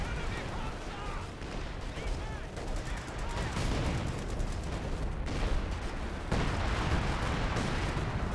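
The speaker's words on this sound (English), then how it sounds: "Incendiary Barrage there." Incendiary artillery barrage in the Company of Heroes 2 video game: dense, continuous rolls of booming shell impacts and crackling gunfire, loud and sustained, with a voice talking over the battle.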